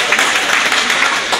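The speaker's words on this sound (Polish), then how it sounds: "Gorące brawa" Applause for a swimmer at a regional Special Olympics swimming meet: a dense, steady wash of many hands clapping together, loud and continuous with no gaps.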